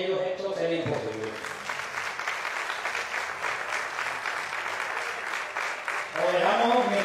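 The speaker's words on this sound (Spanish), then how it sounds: "Pido, por favor, lo que estemos aquí, un fuerte aplauso" An audience claps steadily at a traditional pig-slaughter fair featuring a ham-carving show, with a voice talking at the start and again at the end over the applause.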